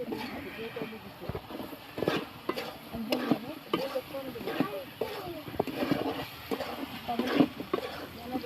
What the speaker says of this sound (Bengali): এখন ভেজে রাখা মাংসটা রান্না করে নেব, তাই যা যা মশলা লাগবে সব কিছু একসঙ্গে দিয়ে মাংসটা ভালো মতো কষিয়ে নেব